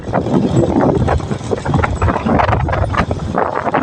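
Dry wind gusting steadily in cold weather along a rural path near a village in Savannakhet, Laos, a loud, rough rush buffeting the microphone throughout.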